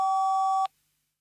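A steady electronic voicemail tone on a German mobile phone mailbox sounds alone for just over half a second, then cuts off sharply into silence before a recorded message begins.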